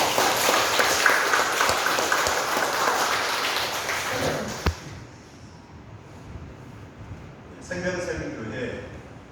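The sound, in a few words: congregation applause in church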